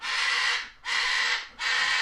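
A bird calling on a farm: three harsh, raspy, crow-like caws, loud and close, each about half a second long with short gaps between them.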